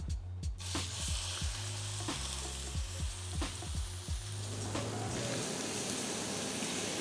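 Beef searing in hot neutral oil in a pan, a loud, continuous sizzle with repeated clinks and scrapes of the pan, the frying hiss building denser toward the end.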